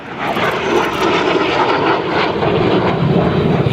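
A U.S. Navy F-18 Super Hornet in the black Vandy 1 paint scheme roars loudly and steadily overhead at an air show, a continuous broadband jet rumble filling the whole stretch.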